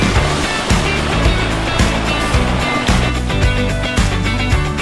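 A small, relaxing water cascade beside a pool with a little jacuzzi at a boutique hotel, heard as a steady, close splashing rush with faint rhythmic thumps underneath, continuous and fairly loud with no talk.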